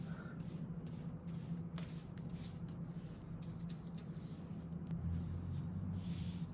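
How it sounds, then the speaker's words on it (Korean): Satin varnish brushed by hand onto a small tempera portrait painting, a close, continuous soft scratchy rubbing that runs steadily for several seconds with no talking. "붓질 한 번에 끝냈고요"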